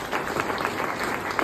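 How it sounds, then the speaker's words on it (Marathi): Dense applause from an audience cheering a speaker's team, a continuous patter of many hands clapping at once, fairly loud and close, with no voices over it. "एकदा माझ्या टीम साठी पण जोरदार टाळ्या वाजवा मित्रांनो."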